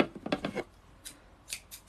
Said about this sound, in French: on coupe le fil avant de faire le nœud